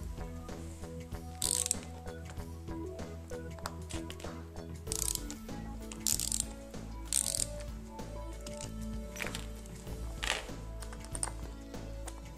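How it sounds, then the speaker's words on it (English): A ratchet tightening a bolt through the joint of a jointed fur teddy bear, giving several short bursts of fast clicking separated by pauses, close and fairly quiet over a low steady hum. "And now we're going to ratchet this down."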